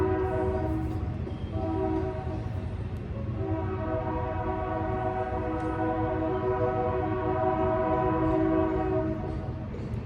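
Train rolling past an outdoor spot, a steady low rumble with layered horn-like tones that holds at even loudness throughout, fairly close and continuous with no talk.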